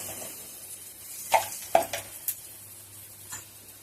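Lemon rice tempering with curry leaves, green chillies, turmeric and salt being stirred in a pan, with a few distinct scrapes and clinks of a spoon against the metal over a quiet background.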